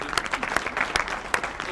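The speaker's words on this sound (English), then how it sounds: "I'm going to ask you to give him another round of applause." A brief burst of audience applause at a talk at the Muhammad Ali Institute, dense clapping with a few sharper individual claps standing out, fairly close and loud.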